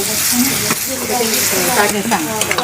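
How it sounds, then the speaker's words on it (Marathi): Ginger-garlic paste fries with onion in a pan for chichardi bhaji, a steady loud sizzle with scraping stirs throughout and no pauses. "आल्या लसणाची पेस्ट टाकली आहे ते सुद्धा परतून घ्यायची ती फ्राय करून घ्यायची"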